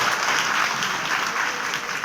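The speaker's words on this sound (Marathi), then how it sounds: "तुम्ही वाजवून दाखवा बरं टाळ्या" A crowd at a devotional kirtan gathering claps loudly and densely, a steady close roar of hands with no pauses and no voices.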